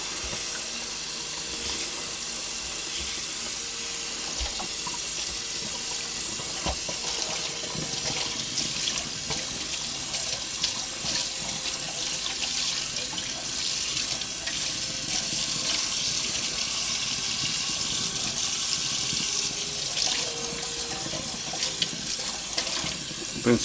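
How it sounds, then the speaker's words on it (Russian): Pike roe is rinsed under cold water running from a tap, with a steady close gush and splashing over a sink that continues for more than twenty seconds, its level varying a little as the roe is moved in the stream. "Сейчас нам надо как следует промыть холодной водой"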